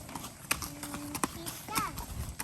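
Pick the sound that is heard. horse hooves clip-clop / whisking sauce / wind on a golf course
horse hooves clip-clop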